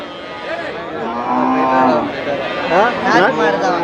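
A native-breed cow moos loudly at a busy cattle market in Melapalayam, its long drawn-out calls rising and falling close by while traders chatter in the background.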